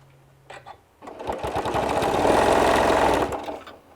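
A sewing machine fitted with a heavy-duty leather needle stitches quilted fabric for a hanging travel laundry bag, a couple of short bursts and then a steady, loud whirring run of about two and a half seconds that slows to a stop, close by with no talking.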